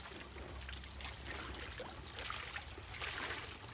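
Water trickles and drips softly while a koi is released from its shipping bag into a stock tank outdoors, a faint, steady splashing trickle with small drops.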